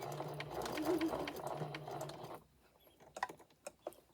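A sewing machine stitches around a memory bear made of loose woven cotton, a close, steady mechanical whir lasting a couple of seconds before stopping, followed by a few sharp handling clicks.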